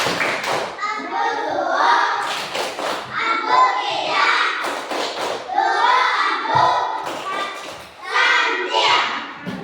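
A class of children in an Indonesian school claps the tepuk santiang, a patterned rhythmic clap with sharp repeated bursts in groups, mixed with young voices chanting along.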